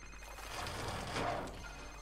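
A mobile phone rings in Call of Duty: Modern Warfare Remastered, a quiet electronic ringtone with a brief brighter tone near the middle, heard alone with no talk.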